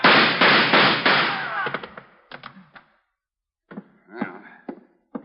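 Sharp, close gunshots in a radio detective drama, a loud rapid burst of several reports followed after a pause by a few scattered single shots.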